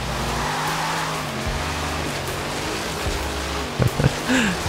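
A car in Forza Horizon 3 holds a steady engine drone while drifting across the track, with a few short tire chirps and squeals breaking through near the end.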